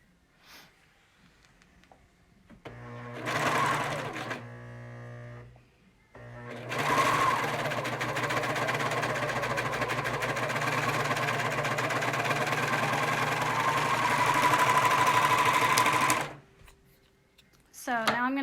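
A serger sewing machine stitches stretchy mask fabric with contrasting thread, first in a short burst, then in a long, loud, steady whirring run. The motor's hum sits close, with a brief quieter gap between runs.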